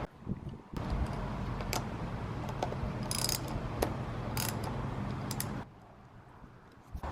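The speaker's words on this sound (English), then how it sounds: "the bottom is a number 10 socket wrench. So let's get that removed." A number 10 socket wrench works loose the lower bolt on a brake or clutch lever of a Vulcan 650 motorcycle, giving a steady run of close, quick ratcheting clicks with sharp metallic ticks, then a pause.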